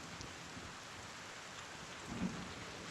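Heavy rain pours down over a city seen from forty floors up, a faint, steady wash of hiss with a low rumble swelling briefly near the end like distant thunder; no voices.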